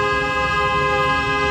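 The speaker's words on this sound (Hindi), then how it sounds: "ये होता लॉन्ग हॉर्न, इतना तेज और इतनी देर तक" A long, loud car horn held as one continuous steady tone, sounded during a driving lesson in a car, with no talk over it.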